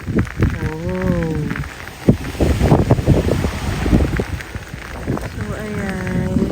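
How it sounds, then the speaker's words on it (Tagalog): Strong wind with light drizzle on a seaside shore, gusting noise buffeting the microphone in an uneven rush while people talk over it close by. "Lakas ng hangin at ambon."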